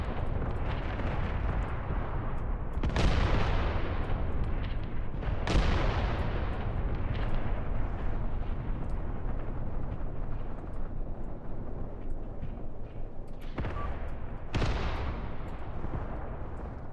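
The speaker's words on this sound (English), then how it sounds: "The machine guns and the tanks are keeping them suppressed while the infantry finish the job" Rumbling combat from the WWII-era Graviteam Tactics game: machine gun and tank fire boom through a dense, continuous battlefield din, with several sharp heavy reports standing out over the constant roar, no voices.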